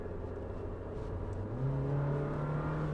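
Thar Roxx SUV engine revving harder as it accelerates to overtake on a tight snowy mountain road in Spiti, a steady hum rising in pitch midway and holding loud, with no talk.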